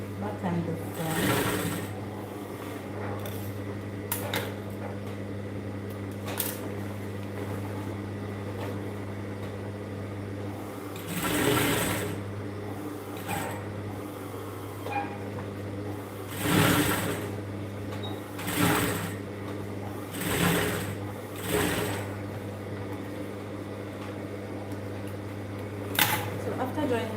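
A sewing machine stitches the crotch seam of ankara print palazzo pants in bursts of fast, close mechanical whirring, pausing between runs over a steady low hum, while someone talks in between.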